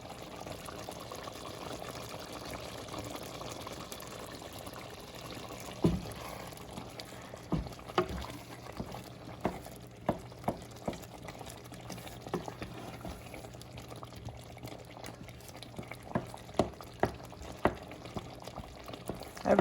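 Potato soup simmers uncovered in a pot, a low steady bubbling bed with scattered soft pops and blips that grow more frequent over the span, quiet and close with no voices.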